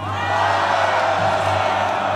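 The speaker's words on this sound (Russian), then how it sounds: "Речь фюрера была встречена бурными аплодисментами." Large crowd cheering and applauding after a political speech, a dense, continuous roar of voices and clapping with a low steady hum underneath, fairly distant and even throughout.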